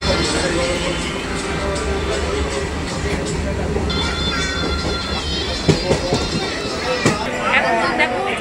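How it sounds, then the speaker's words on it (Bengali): Local train heading toward Bandel, with a low rumble of rail travel under busy crowd chatter, clattering bumps and a few sharp metallic squeals, while people talk nearby. "দেখো ট্রেন এসে গেছে, ট্রেনে উঠবো"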